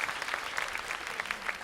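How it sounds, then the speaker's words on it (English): An audience in a cruise ship theater applauding during a welcome aboard stage show, a short burst of dense clapping heard alone without talk. "a huge round of applause for all of your fellow guests"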